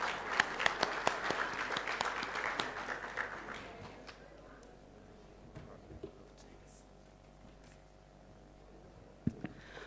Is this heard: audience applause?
yes